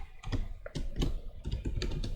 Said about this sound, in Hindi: और एक बार बैक स्पेस प्रेस करेंगे।